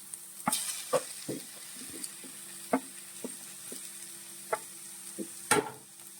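Ground coconut paste tossed into pineapple thoran in a pan, with scattered stirring scrapes and soft taps over a faint steady sizzle, fairly quiet and without talk.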